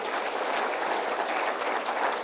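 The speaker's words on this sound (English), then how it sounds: "Please let's give ourselves a loud applause" Audience applause at a youth TVET program symposium in Kenya, a continuous dense clapping from a full room, loud and even throughout.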